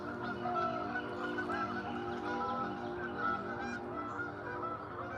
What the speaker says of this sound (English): You know, you want to say those are ducks, but we don't know what they are.